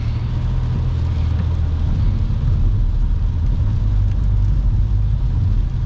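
Car cruising on a rain-soaked North American interstate near a truck, with a steady broadband hiss of tyre spray and water kicking up over a constant low road rumble, loud and continuous throughout.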